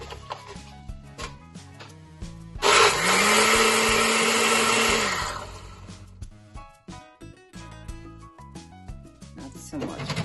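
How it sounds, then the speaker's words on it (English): Blender pureeing passion fruit in a single loud burst of a few seconds, whirring steadily with a rising pitch before cutting off, surrounded by quieter kitchen clatter and a person talking before and after. "I'm gonna blend my passion fruit just a little bit so I can get the puree out"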